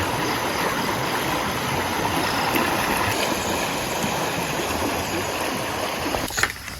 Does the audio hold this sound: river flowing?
yes